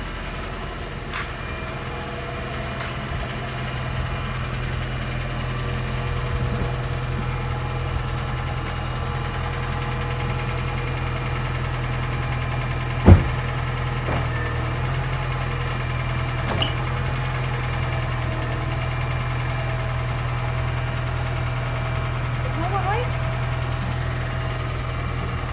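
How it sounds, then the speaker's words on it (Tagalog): A car engine idles on a snowy day in Japan, a steady low mechanical hum with faint vibration and one sharp knock near the middle, heard from inside the vehicle. "At pina-andar na po ang ating sasakyan."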